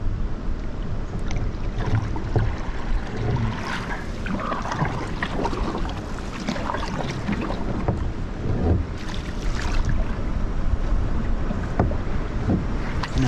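Rushing river rapids surround a canoe on a solo whitewater trip, a steady broadband roar of churning water with splashes and gusts of wind noise, loud and close throughout.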